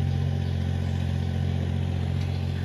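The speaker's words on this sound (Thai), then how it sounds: "รถไถกำลังไถอยู่ค่ะ" A tractor plows a flooded rice paddy in Thailand's Isan region, its engine a steady, low, droning hum that runs evenly without a break at moderate distance.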